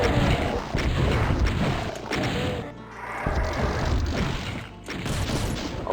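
Rapid, dense gunfire and heavy explosive booms from Doom 2 on a Pistol-start Ultra-Violence run of Map22, pounding almost continuously with a brief lull near the middle, loud and close.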